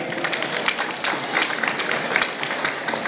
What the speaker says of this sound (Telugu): చప్పట్టు కొట్టడానికి ఇబ్బంది ఎందుకు గట్టిగా ఒకసారి కొట్టండి